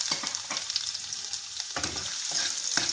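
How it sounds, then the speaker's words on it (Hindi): Garlic sizzles and crackles steadily in hot oil in a kadhai while a Veg Manchurian sauce is being made, a close, continuous frying hiss with occasional louder pops and stirring. "तेल गर्म हो चुका है। अब इसमें डालेंगे लहसुन।"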